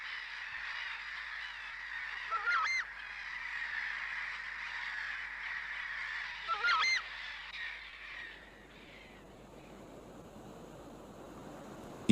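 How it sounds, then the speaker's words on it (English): Screamers, South American marsh birds related to ducks, give continuous loud honking calls with two harsher bursts, fading toward the end into faint broadband swamp ambience. "screamers belong to a small family of marsh birds that live only in South America"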